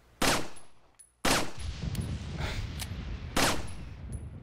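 Gunfire in Resident Evil 4, with loud sharp shots at irregular intervals and bullets ricocheting off a target, plus scattered metallic pings from the impacts and falling casings between the bursts.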